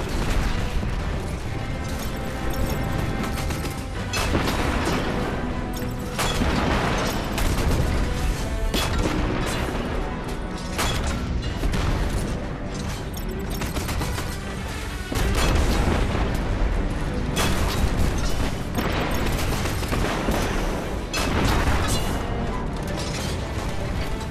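Red Legion tanks firing in the shooter Destiny 2: loud, repeated cannon blasts and booms mixed with gunfire and mechanical clatter, keeping a dense, chaotic battle din going throughout.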